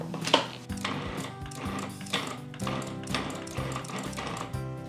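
A food processor pulses flour, sugar and salt, its motor whirring in a rapid series of short bursts with a rattling, stuttering texture at close range.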